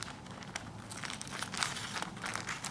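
A sheet of plastic being cut in half for a Beaver Scouts stained glass window craft, giving faint, continuous crinkling and scraping close by.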